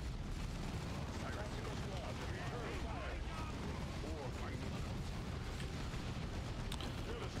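Continuous rumbling battle din from Dawn of War 2, a dense wash of gunfire and explosions packed together at steady loudness throughout, with a voice talking over the combat.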